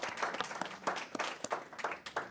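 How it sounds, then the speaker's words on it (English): Applause from a lecture audience gathered to hear a talk on symbolism in Maine's early gravestones, a modest round of clapping with scattered individual claps, moderately close and fairly quiet. "So please give a rousing round of applause for Ron Romano"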